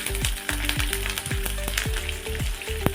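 Coriander seeds, sesame seeds and curry leaves sizzle loudly in hot oil, mixed with regular, rhythmic spoon strokes about every half second over a dense, close frying hiss.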